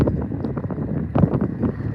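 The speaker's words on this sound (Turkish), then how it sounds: "Şu an şiddetli bir rüzgar var." Strong wind at a wildfire between Batmantaş and Çayören villages in Tokat, Turkey, buffets the microphone with a steady low rumble and gusty swells, close and loud, with no voices.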